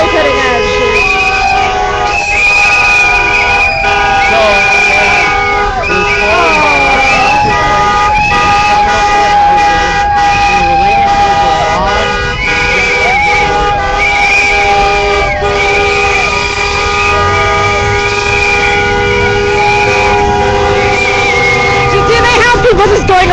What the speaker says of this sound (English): People just going around the corner again and again honking horns?